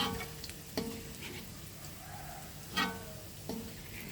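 Garlic sizzles steadily in a hot pan as it turns golden, with a few sharp clanks of a utensil scraping and stirring against the pan over the frying hiss.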